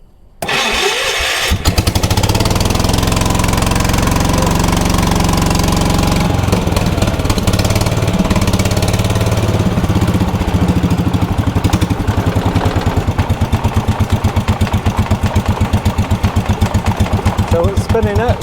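A vintage 1980s UTV engine cranks over and catches, then settles into a loud, steady, close-up mechanical idle with a rhythmic knock that runs unbroken to the end.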